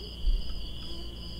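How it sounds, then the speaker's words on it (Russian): Insect buzzing from a customs simulator video game, a steady high drone at night that holds evenly and fairly loud throughout, with no talk over it. "Да сраные эти комары,"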